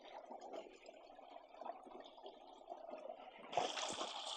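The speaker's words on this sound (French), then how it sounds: "Le ruisseau, là, il coule en bas là" A clear woodland creek runs over rocks in an autumn woodlot at La Pêche, Outaouais, giving a steady soft trickle and gurgle throughout, with a brighter splashing rush swelling near the end.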